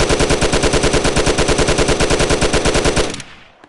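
Sustained automatic fire from a 9mm submachine gun in a VR video game: a loud, close, evenly spaced stream of shots for about three seconds, then an abrupt stop and a fading tail.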